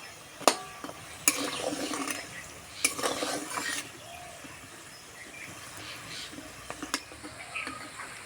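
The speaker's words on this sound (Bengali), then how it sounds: "আর একটু সময় ধরে আস্তে আস্তে ভাজতে হবে, তাহলে কচুরিগুলো একদম খাস্তা হবে।" Aloo kachori slowly deep fry in oil, giving a soft, steady hiss with brief louder bursts of sizzle and a few scattered utensil clinks, all fairly close and without speech.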